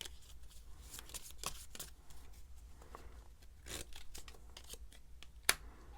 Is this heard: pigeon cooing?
no